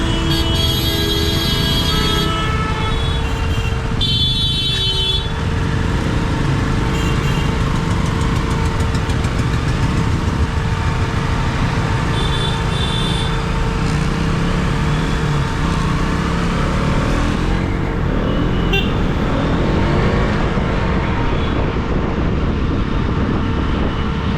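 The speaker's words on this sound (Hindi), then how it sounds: "थोड़ा सा जाम है तो बढ़िया ही है, थोड़ा रुक के सांस भी ले सकता हूँ।" A Delhi traffic jam heard from a motorbike, with a loud, steady rumble of idling engines throughout and brief tonal horn blasts early on.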